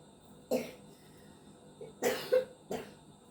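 A young child coughs several times in a quiet room, with a single sharp cough first, then a closely spaced cluster of harsher coughs and one more shortly after.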